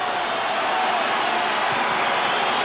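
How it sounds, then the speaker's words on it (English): A crowd roars steadily at a 1995 American football game against the Barcelona Dragons on a tense third down, a dense, continuous wash of cheering noise with no clear breaks. "The crowd getting into it"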